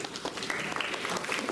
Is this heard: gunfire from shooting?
no